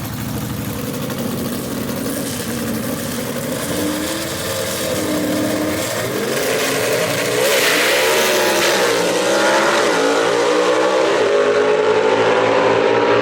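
Gasser drag race cars at Shadyside Dragway roar loudly as engines rev and accelerate past, a sustained, rising mechanical howl that builds and shifts over several seconds without voices.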